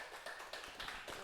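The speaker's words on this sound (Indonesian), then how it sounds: "Kasih tepuk tangan teman-teman, anak-anak." A short patter of hand claps from classmates in a classroom, a few quick taps heard fairly faintly.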